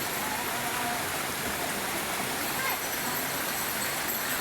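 Water rushes in a steady, dense hiss at a mountain spring resort on an eco farm, continuous and fairly close.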